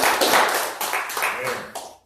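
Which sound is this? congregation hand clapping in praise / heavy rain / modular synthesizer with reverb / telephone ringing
congregation hand clapping in praise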